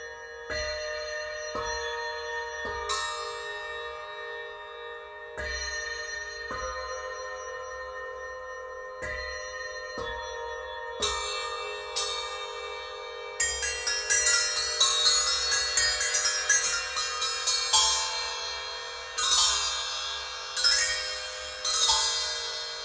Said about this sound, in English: these are cup chimes, and they're useful for the multi-percussionist or the drum set player, or a nice exotic bell type sound